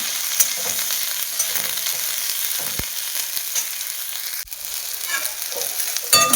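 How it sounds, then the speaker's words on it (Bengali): Bitter gourd fries hard in a pan, giving a loud, continuous crackling sizzle with a few sharp spatters and one brief dip in intensity. "উচ্ছেটা লাল লাল করে ভেজে নেব।"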